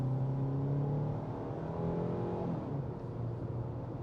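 A 2025 Hyundai Tucson accelerates under throttle, its engine note rising in a smooth, sustained drone heard from inside the cabin, with steady road and tire rumble beneath.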